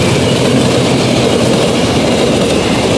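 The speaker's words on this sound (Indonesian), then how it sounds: "kereta api Cikuray dari Pasar Senen ke Garut" Cikuray passenger train bound from Pasar Senen to Garut rolls past close by, a loud, steady broadband roar of rail cars with faint clickety-clack from the wheels, unbroken for the whole stretch.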